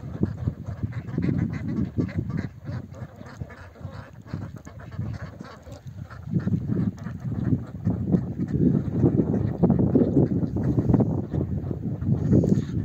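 Geese and ducks out on a grazing walk, honking and quacking in a busy, overlapping chorus that swells louder in the second half, close by with a steady outdoor background.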